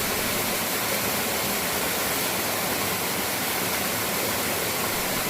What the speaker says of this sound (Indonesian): indahnya alam ini tersampaikan dengan mengalirnya air yang bersih ini